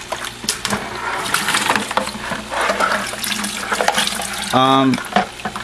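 Water poured and splashed out of a small aquarium whisper filter, a busy wet trickle running throughout with a brief louder gurgling gush near the end.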